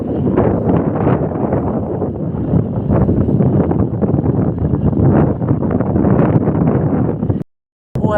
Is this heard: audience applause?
no